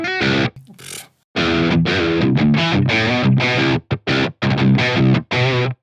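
Dry, tight high-gain electric guitar through the PolyChromeDSP McRocklin Suite plugin, playing choppy distorted riffs and chords with sharp stops and short silent gaps between bursts.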